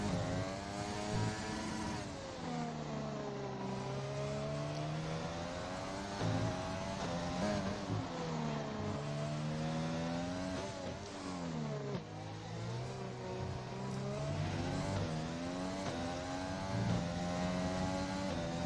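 A race car on a flying lap at a Spain round screams through its gears, the engine pitch rising and falling in repeated sweeps, loud and continuous throughout.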